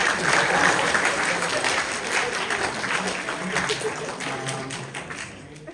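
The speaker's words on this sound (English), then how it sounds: "Or a round of applause" At a closing awards ceremony, an audience claps in a full round of applause that swells early and gradually thins as it fades out, with some faint voices mixed in.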